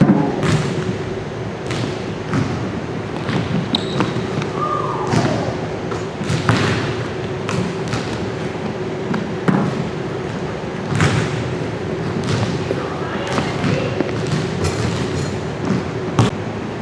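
A basketball bounces and shots land on an indoor court during a camp drill demonstration, with repeated close thuds and dribbles, sneaker squeaks and echoing gym ambience.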